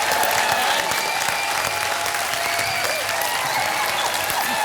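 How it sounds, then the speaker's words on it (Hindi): Steady, dense applause from a studio audience at a televised Hindi game show, loud and continuous throughout with no talk over it. "तालियां"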